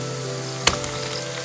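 Sliced onion dropped into a pan of frying ginger and garlic, a brief sharp burst of sizzle over a steady low frying hiss, then settling back to a continuous crackle.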